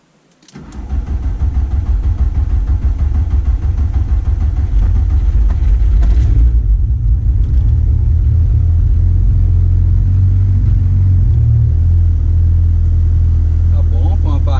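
A VW Saveiro G3 with a 2.0 turbo engine on ethanol fires up and settles into a loud, steady close-up run with slight revs, a continuous low rumble filling the whole stretch.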